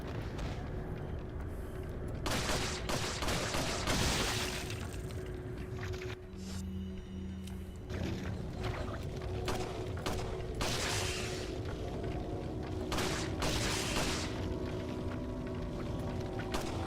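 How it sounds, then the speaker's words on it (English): Sustained gunfire in Resident Evil 4, a long run of rapid shots and heavy blasts filling the scene, loud and close, with a brief lull partway through before the firing resumes. "That was a lot of bullets."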